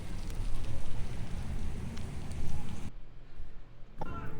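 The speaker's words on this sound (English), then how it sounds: "it literally started pouring rain" Steady rain pours down outdoors while walking near a church in New Orleans, a dense close hiss that cuts to a quieter patch near the end before returning.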